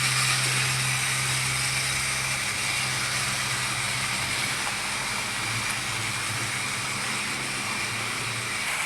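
A Tri-ang/Hornby Caledonian Single model locomotive runs fast along model railway track, giving a steady, continuous motor hum and rail whirr with no break, close by.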